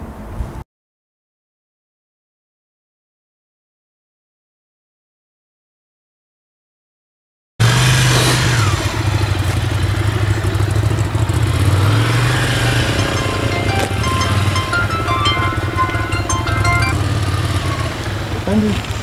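On a closed-area motorcycle riding course, a motorcycle engine runs loud and steady with a broad, rough roar after a long silent gap near the start.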